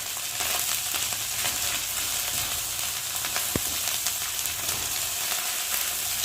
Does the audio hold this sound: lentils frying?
yes